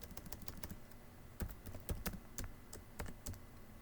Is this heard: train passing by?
no